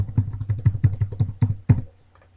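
Computer keyboard keys tapped in a steady run of about ten distinct clicks, close and clear, used to move Scratch game players, then quiet.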